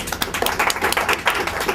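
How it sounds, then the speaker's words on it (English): Small audience clapping at a crowdfunding networking event in New York to welcome the next presenters, a brief burst of fairly close hand claps from a modest group, uneven and loose in rhythm. "Let's have an applause."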